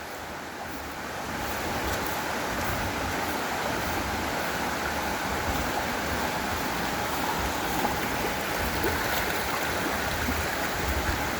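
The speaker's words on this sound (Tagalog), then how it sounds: "So ayun na siya guys, ang Taytay Falls." Taytay Falls waterfall roars in a steady, dense wash of falling water, close and unbroken, swelling a little after the first second and holding constant with no voices.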